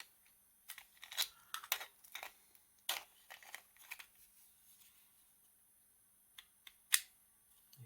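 A 3D-printed DIY watch winder ticking with small, sharp, irregular clicks, quiet and close, clustered at first and then sparse with a final louder click.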